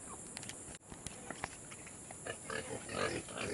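Pigs in a farm pen grunt and oink as they are fed, with a busy chorus of snuffling and squeals building up, plus scattered taps and shuffling close by.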